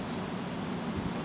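Raindrops fall steadily outdoors in a dense, even hiss of rain with no breaks. It is fairly loud and close, and no voices can be heard.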